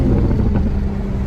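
A Toyota Supra engine rumbles steadily and loudly close by, revving under acceleration with a faint turbo whine riding above the deep drone.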